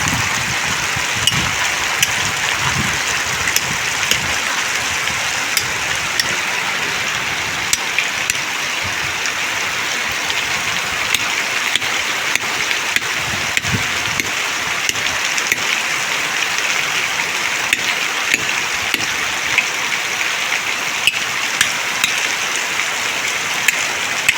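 Steady rain falls on farmland during sowing season, a constant dense hiss scattered with sharp drip and patter hits on nearby surfaces, continuing throughout with no voices.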